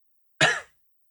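A single short throat clearing with a cough-like burst, close and fairly quiet, alone against silence.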